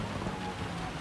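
Rain patters during a Gran Turismo 7 race, a faint, even hiss with a low rumble beneath, steady throughout with no voices.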